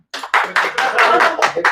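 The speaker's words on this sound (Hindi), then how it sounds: "अरे वाह, तालियां।" Applause from a group, a run of clapping bursts in quick succession with short gaps between them, fairly loud and close.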